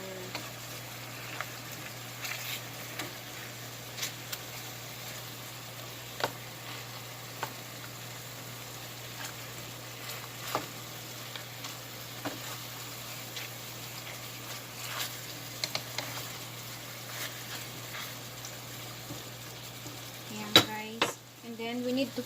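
Chicken pieces frying for creamy pineapple chicken, a low steady sizzle with scattered faint clicks and scrapes as they are flipped in the pan, louder clatter near the end.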